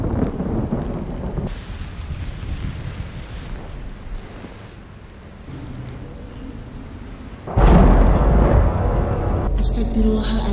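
A thunderstorm on a remote island brings a steady roar of heavy rain and wind, with rolling thunder that swells into a loud, close crash near the end.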